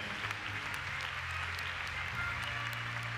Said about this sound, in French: Vos applaudissements à nouveau pour l'Irlandais.